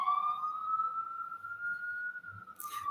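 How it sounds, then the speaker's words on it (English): An emergency vehicle siren wails outside near the Atlanta Aquarium, a steady rising-and-holding tone at moderate distance, fairly quiet, ending with a brief burst of broadband noise. "And now I'm recording and there's a siren."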